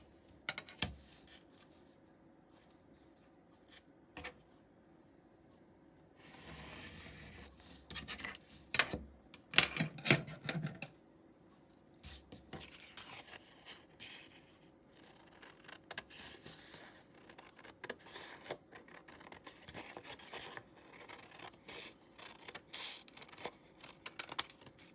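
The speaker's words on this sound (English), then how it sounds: "So I'm going to cut this in half." Scissors cutting paper for a junk journal, with scattered close snips and crisp paper rustling, clustered into a denser burst partway through amid quiet pauses.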